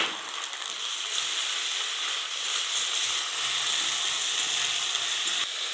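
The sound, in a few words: onion and ginger-garlic paste frying in a pan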